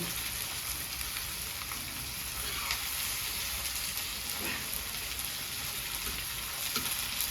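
Chopped onions fry and brown in a pan for a methi-palak kadhi, a dense continuous sizzle and crackle held close and even throughout, with faint stirring touches and no voices.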